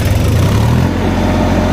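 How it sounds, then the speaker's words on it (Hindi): A tractor engine runs steadily at about 1800 RPM with its cover lifted, giving a loud, close, continuous low throb that holds an even pitch throughout. "ट्रैक्टर के जो है RPM 1800 कर लिए"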